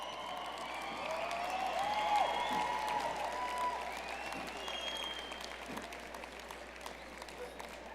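Graduates at a University of Calgary convocation ceremony applaud and cheer in a big, sustained wave of clapping and crowd noise, with a few whistles, that peaks early and then gradually eases.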